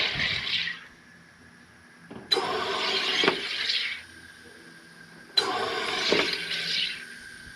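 Three pressings of the button on a SodaStream TERRA carbonating water, each a sharp onset followed by a loud hissing, buzzing gas burst lasting about two seconds, evenly spaced with quiet gaps between.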